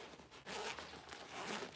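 A zipper on a handbag's outer pocket is pulled along in a quick, faint rasping run, close by and with no voices over it.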